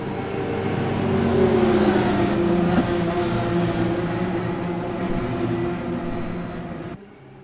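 Race cars roar up to speed on a restart after the pace car pulls in, a dense sustained engine drone with layered whining tones, steady and loud for about seven seconds before cutting off.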